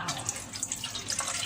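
Plain water poured into a cooking pot for coffee coconut jelly, a brief, steady splashing gurgle heard up close and alone.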